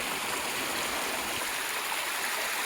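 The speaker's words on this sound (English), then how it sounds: "So here I am down at the bottom of the creek." Steady broadband rush of creek water flowing continuously at the bottom of a creek in the Shining Rock Wilderness, close and even, with no talking.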